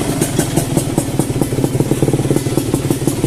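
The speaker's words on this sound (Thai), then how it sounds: "เครื่องดีแน่นอนเครื่องแน่นๆเงียบๆเลย" A classic TZM motorcycle with a two-stroke engine and three-outlet exhaust idles up close, its steady, even pulsing loud and alone with a light mechanical clatter.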